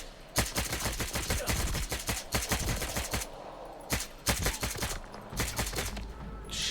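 Rapid bursts of gunfire from S.T.A.L.K.E.R. 2: Heart of Chornobyl crackle in dense clusters, with quick single shots and automatic strings separated by short gaps, loud and close with no talk over them.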